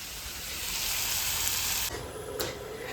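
Ash gourd cooks and sizzles in a steel kadai, a loud, continuous frying hiss that eases off partway through as a faint stir or scrape joins in, with no talk.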